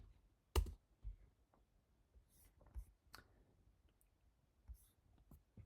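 Mouse clicks on a share button in a web browser: one sharp, louder click, then a scattering of fainter taps and clicks, all close and quiet with no voice.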